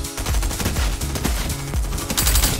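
Rapid bursts of gold SMG fire in Fortnite at Tilted Towers, loud and close, rattling steadily through the whole stretch with short gaps between volleys.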